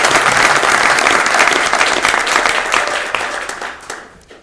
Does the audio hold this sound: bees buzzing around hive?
no